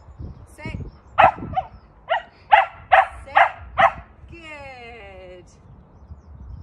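A dog barks several times in a short, evenly spaced burst during a basic obedience training session at home, loud and close, with a trainer's spoken commands just before and a whining, squeaky sound trailing after.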